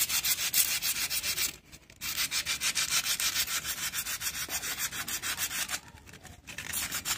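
An old bike brake shoe is rubbed clean with sandpaper in steady, rapid back-and-forth strokes, loud and close, with two brief pauses between bursts of scraping.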